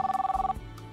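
A telephone ringback tone pulses rapidly and loudly during a call to a phone-in line for a 2030 Busan Expo support message, then cuts off abruptly into quiet background.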